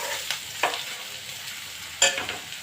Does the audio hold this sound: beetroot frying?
yes